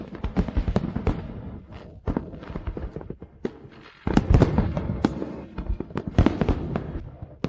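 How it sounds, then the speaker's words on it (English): Fireworks going off in a rapid, irregular series of sharp cracks and booming bursts, some louder and closer than others, continuous with no voices. "Don't you like the fireworks?"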